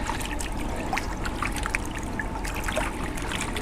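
Soapy water wrung from hand-washed laundry over a laundry tub, a continuous close trickling and dribbling with wet squelches as the fabric is squeezed.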